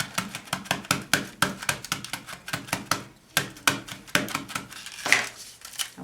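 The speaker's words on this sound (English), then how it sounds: "And we're going to just stamp it on." An inked, foil-wrapped block pressed with black Memento ink onto cardstock, a run of sharp, close knocks and taps in an uneven rhythm with a short pause midway, loud and with no talking over it.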